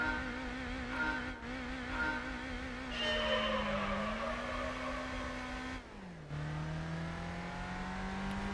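A Mazda MX-5 in Gran Turismo 3 drives with a steady, droning engine note that rises and falls through gear changes, a brief dip, then a lower sustained hum, without any talking.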